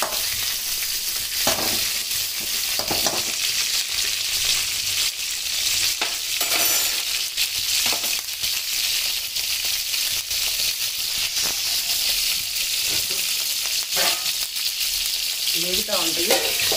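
Dibba rotti batter, a thick rice and urad dal dosa batter, sizzles steadily in a covered pan, a dense continuous frying hiss with faint crackles and a few soft clinks throughout.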